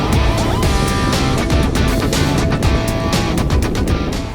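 A Triumph Street Triple 765 naked supersport motorcycle runs hard on a race track, its engine note loud and steady throughout with sharp bursts of higher revving, no voices heard.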